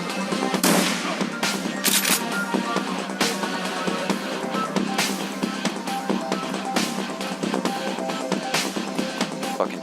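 Rapid gunfire from the Shadowrun Returns video game crackles in dense, repeated bursts of shots and impacts throughout, loud and continuous, with no clear talk.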